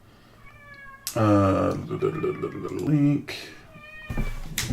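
A domestic cat meows several times close by, drawn-out tonal cries cutting in over someone talking.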